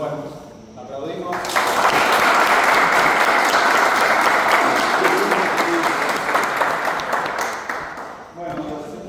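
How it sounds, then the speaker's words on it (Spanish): Applause from a meeting audience at a data expo, a dense wash of clapping that swells quickly after a brief spoken lead-in, stays loud and steady for several seconds, then tapers off near the end. "Bueno, aplaudimos."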